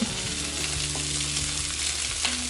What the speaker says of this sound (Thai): ใส่น้ำหมักหมูแดงที่เรา หมักเอาไว้นะคะ ไม่ต้องทิ้งเอามาผัดเป็นไส้หมูแดงอร่อยมากเลย